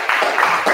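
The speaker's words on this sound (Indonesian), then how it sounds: "tepuk tangan untuk kelompok 3" Students in a classroom give a short burst of applause for a presenting group, a brief dense clatter of hands that swells in quick waves.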